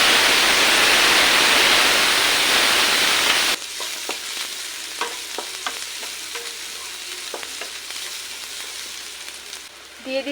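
Cumin seeds and onion hit hot oil with a loud, dense burst of sizzling that drops sharply to a softer, steady fry, dotted with scattered crackles and pops.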